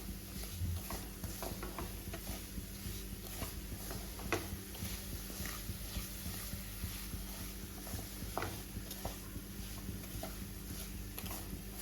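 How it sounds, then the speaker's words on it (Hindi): Semolina roasts in ghee in a pan for suji halwa, making a quiet steady crackle and sizzle broken by irregular stirring scrapes and taps throughout; no one talks. "सूजी हमारी अच्छे से भुना रही है।"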